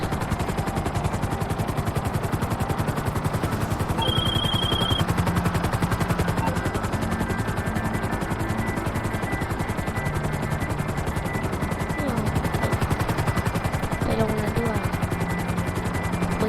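An airplane's engine drones steadily and loudly while flying in GTA Online, a continuous rhythmic thrum lasting throughout, with a voice faintly talking underneath.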